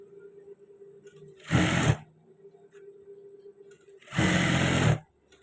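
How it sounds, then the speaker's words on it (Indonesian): Sewing machine stitching the hem of long trousers, with two loud bursts of running stitches separated by quieter pauses of low hum and faint voice. "Nanti kita jahit pas bagian tebusannya."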